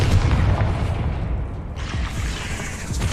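A Confringo blasting spell goes off in the Hogwarts Legacy video game, a loud, booming explosion with a heavy low rumble that holds steady for about three seconds.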